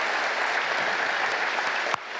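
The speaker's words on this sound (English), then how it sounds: "We want to give you a massive round of applause." At a rhino conservation gala, an audience gives a brief burst of steady, dense applause that cuts off abruptly.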